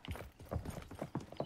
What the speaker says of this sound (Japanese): 足音はするんだが